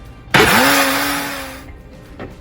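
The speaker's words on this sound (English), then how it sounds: "put it on your blender. And what you want this to do, you want it to completely liquefy." A kitchen blender whirs to life with a sudden start, running at a steady high pitch while liquefying posole ingredients, then slowing and stopping after little more than a second, alone without talk.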